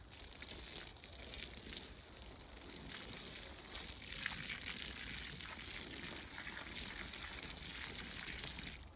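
Water pours steadily onto the soil around a newly planted fruit tree, a continuous close splashing and trickling hiss that holds evenly throughout with no voices.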